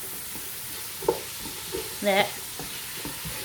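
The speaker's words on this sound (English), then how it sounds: "I'm just frying the onions now" Onions sizzle steadily in a pan for a home-cooked chicken biryani, a constant hiss with a few brief stirring scrapes and clinks, and a voice says a single short word.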